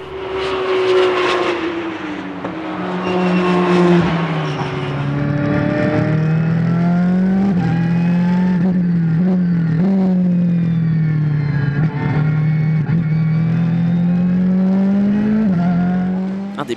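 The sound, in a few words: race cars, Ferrari and Porsche, racing at Anneau du Rhin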